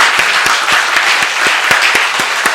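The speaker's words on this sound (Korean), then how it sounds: "지난 1년 동안 우리와 함께 하신 하나님께 감사의 박수를 드리시겠습니다" Dense, steady applause from a church congregation at a year-end service, loud and filling the space throughout with sharp individual claps poking through the wash.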